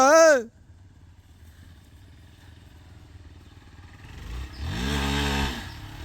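A Hero Xpulse 200 4V 2025 model motorcycle revs up during a wheelie stunt, first a brief sharp rising whine, then a low idle and a louder sustained engine roar building toward the end.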